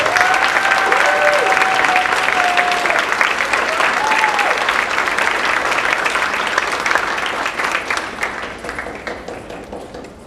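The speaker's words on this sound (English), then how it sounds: "Let's give them all a big round of applause right now for all their efforts." A large audience at a senior awards night applauds the award recipients with loud, sustained clapping that fills the whole stretch and fades slightly toward the end, while a faint voice or tone sounds briefly early on.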